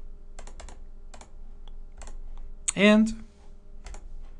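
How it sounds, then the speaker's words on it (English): A word is typed into the Collins Translator app on a Windows Phone, producing a series of light, quick tapping clicks in small bursts, close by, with a brief spoken word partway through. "You may type a word like hello"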